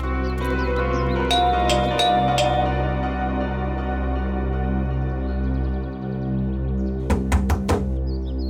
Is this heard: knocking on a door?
yes